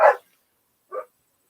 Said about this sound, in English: As always, the dogs are barking like crazy.